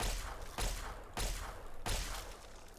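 Four loud, closely spaced gunshots, about half a second apart, fired at a Mirelurk in Fallout 3, each a sharp broadband blast with a short decaying tail.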